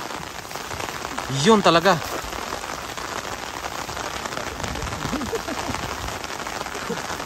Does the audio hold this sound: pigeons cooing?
no